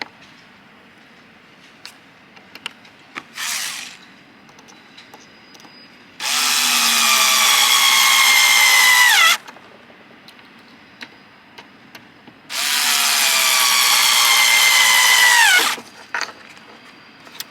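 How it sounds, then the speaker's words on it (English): A power screwdriver driving small screws into a Cannon downrigger: two long, loud whirring runs with rising pitch, plus a brief short burst earlier and scattered ticks and handling clicks between. "And we'll flip that over and put the other 2 small screws on the other side."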